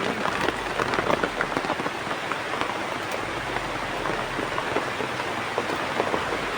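Steady rain patters on a surface in a dense, continuous hiss, with scattered heavier drops standing out, and no voices.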